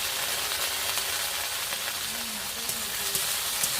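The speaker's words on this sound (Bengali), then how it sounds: "ভালো করে একটু নেড়ে ভেজে নিচ্ছি" Chopped tomatoes frying in a pan after chilli and onion, giving a steady close sizzle throughout with faint stirring scrapes and no talk.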